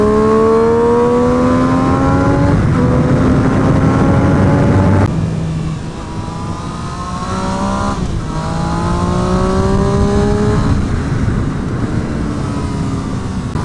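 Triumph Street Triple R motorcycle ridden hard on a race track, its engine screaming up through the gears with rising pitch sweeps and brief drops at each shift, loud and close, no talk.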